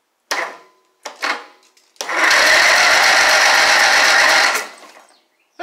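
Simplicity Sun Runner lawn tractor motor cranking over, a couple of short starter bursts followed by a sustained grinding crank of about two and a half seconds, close and loud.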